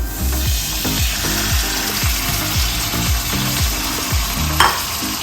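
Small boneless chicken pieces hit a hot pan and sizzle loudly, with rhythmic scraping and stirring knocks from a utensil repeating under the steady hiss, heard close with no talking.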